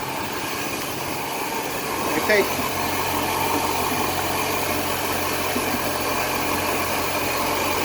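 A 2001 Sea Ray 225 boat's inboard engine runs at a steady idle, a constant mechanical drone throughout, with a brief spoken remark over it.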